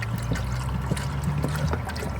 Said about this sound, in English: So let's fill up the kettle.